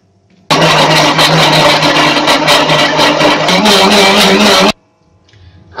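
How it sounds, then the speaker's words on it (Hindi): An electric kitchen mixer blends a protein drink of protein powder, jaggery, raisins and half a glass of milk, giving a loud, steady motor whir for about four seconds that starts and stops abruptly. "इन सब को भी हम मिक्सर में डाल के अच्छी तरह चला लेंगे।"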